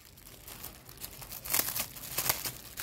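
Small pocket-knife scissors cut through doubled bubble wrap, giving a quiet run of crinkling, crunching snips that grow louder in the second half.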